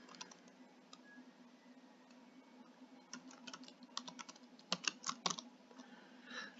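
Rapid, irregular clicks of fingers typing a search on a computer keyboard, close and fairly quiet over a steady low hum, with a denser burst of keystrokes in the second half.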